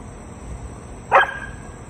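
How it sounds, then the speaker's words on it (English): One short, sharp bark from a nearby dog breaks an otherwise quiet background. "Stop barking, bud."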